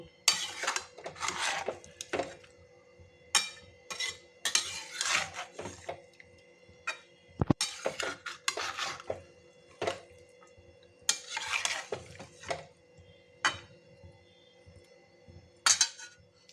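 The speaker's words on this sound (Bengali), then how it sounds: "এবার মাছের সঙ্গে মশলাটা ভালো করে একটু মিশিয়ে নেব" Fish being mixed with spices in a kadai on the stove, heard as irregular bursts of scraping and clinking from a spatula against the pan, with quiet pauses between the strokes.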